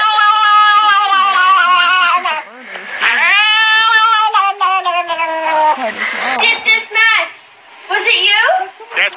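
A cat startled by a cucumber lets out loud, drawn-out yowling meows with rising and falling pitch, several cries in a row with short breaks between them.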